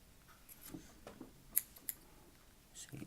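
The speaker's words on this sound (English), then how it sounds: "So I'm going to trim this one a bit." Small scissors snip the wire leads of a freshly wrapped vape coil on a Wismec Indestructible dual-coil RDA, two short crisp clicks close to the mic over faint background hiss.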